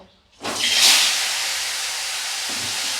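Koi fish poured into a wok of hot oil sets off a sudden loud sizzling hiss that fades slowly into a steady, ongoing spatter of frying.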